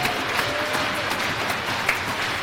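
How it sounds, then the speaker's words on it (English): Crowd applause at a high school girls' hockey game in an arena, a dense, steady wash of clapping that stays even and loud for the whole moment. "Let's give a round of applause for Mayo Clinic"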